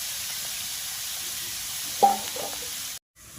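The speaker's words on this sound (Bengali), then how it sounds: "তেলের ওপর দিলে সুন্দরভাবে কিন্তু ভেজে নিতে হবে লাল লাউটা" Bottle gourd pieces fry in oil as a steady, close sizzle for a sweet gourd payesh; a brief stirring clatter sounds midway before the sound cuts off abruptly near the end.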